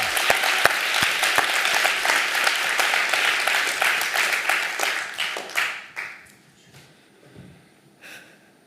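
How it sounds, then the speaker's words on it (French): An audience applauds after a reading-aloud contest finalist is recognised, with sustained, dense clapping that fades out after about six seconds, followed by a few scattered claps. "Donc je pense que ça mérite à nouveau des applaudissements"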